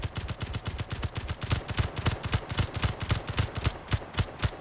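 Rapid, steady automatic gunfire from a drone rover in Space Engineers rattles continuously in a fast rhythmic stream of shots, moderately loud with no talking.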